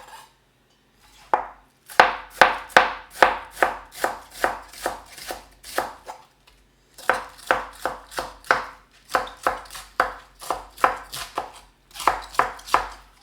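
Rapid chops from a Redmond chef knife strike a hard, noisy cutting board in two long bursts with a short pause between, each chop sharp and clattery, close up with no talking.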